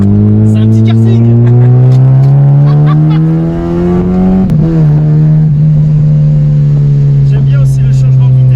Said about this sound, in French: le bruit il t'incite à accélérer encore plus fort pour entendre encore plus le son